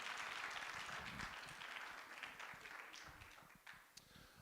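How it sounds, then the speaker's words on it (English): An audience at a Guide Dogs for the Blind graduation claps for the puppy raisers: a dense, steady applause that holds across the whole stretch and eases slightly toward the end, with no voices over it. "let's give them one more round of applause"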